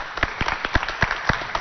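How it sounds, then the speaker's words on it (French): Studio audience applause at a televised children's quiz show in Chad: a short burst of scattered, uneven clapping, moderately close and fairly steady across the whole moment, with no talking over it. "applaudissez pour elle"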